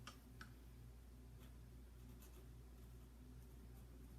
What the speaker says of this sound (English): So I'm gonna take my Sharpie and my wooden spoon, all right? And we're just gonna write